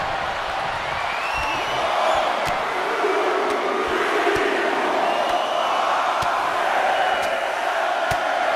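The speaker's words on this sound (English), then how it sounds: "you hear this capacity crowd following you on that journey" A capacity crowd at a wrestling arena roars in a steady, loud wash of noise, with scattered sharp slams and whoops cutting through and no clear speech.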